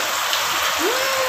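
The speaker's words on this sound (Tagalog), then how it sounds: "Hindi pwede kasi lakas ng ulan, malamig." Heavy rain falls in a constant loud hiss during a stormy, flooding day, with a brief rising tonal whine near the end.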